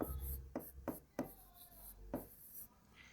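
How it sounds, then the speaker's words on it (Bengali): Marker or chalk writing on a board during an electrical power lesson, a series of short rhythmic scratching strokes close by, with faint room noise between them. "লিখি এখানে"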